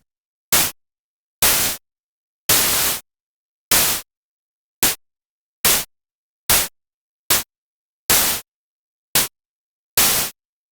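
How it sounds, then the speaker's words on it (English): Synthesized snare hits from the Swiss synth plugin, a dozen short bursts of bright noise with crisp snappy attacks, spaced in an irregular pattern with silence between them. "it gave it a bit more of a snap to a snare drum as well"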